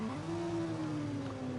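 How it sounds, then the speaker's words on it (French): Motorcycle engine in a video game, a sustained tired-sounding drone with a steady low tone that dips slightly, loud and alone with no talk. "Le son de la moto, elle est fatiguée."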